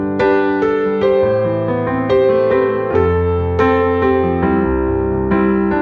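A sequence of sustained chords on a keyboard-like instrument, changing roughly every second, playing a 5-6-4-1 four-chord progression alone with no voices.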